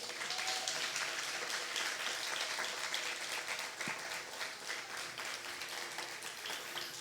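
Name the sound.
congregation applauding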